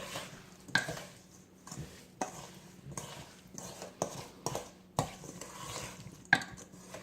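A spoon works blueberries and sugar together for a pie filling in a bowl, giving soft, wet scraping strokes punctuated by sharp clinks against the side, repeating at an uneven pace with no talking.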